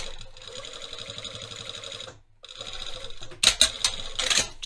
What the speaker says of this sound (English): and sew the rest of the pocket together